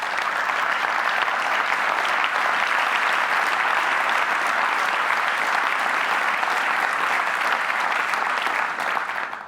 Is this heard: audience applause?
yes